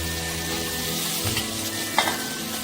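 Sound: masala okra (bhindi) frying on a tawa

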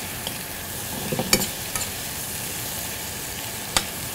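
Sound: fish being stirred and sautéed with shallots and garlic

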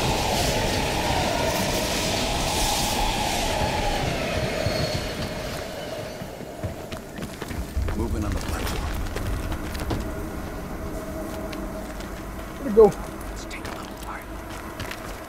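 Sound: train passing in video game Call of Duty Black Ops Cold War

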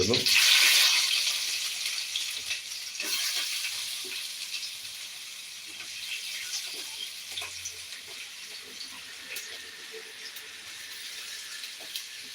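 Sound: onion sizzling as it is added to the pan

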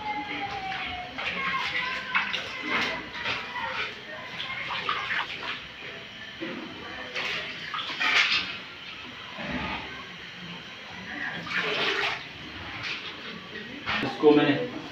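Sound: washing fenugreek leaves in a tub of water

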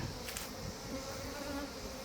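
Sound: honey bees buzzing around an opened beehive

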